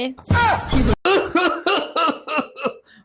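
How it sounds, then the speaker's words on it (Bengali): A harsh burst of coughing up close, followed by a string of strained, throaty vocal sounds. "এই তোমার কাশি এখনো ঠিক হয় নাই?"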